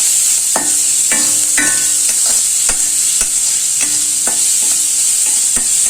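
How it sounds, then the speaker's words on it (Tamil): Crushed garlic cloves and shallots sauté in a pan for a tamarind curry, with a steady close sizzle broken by repeated scraping stirs of a spoon about every half second. "பூண்டு பல், வெங்காயம் ரெண்டுத்தையும் போட்டோம். நல்லா வதங்கட்டும்."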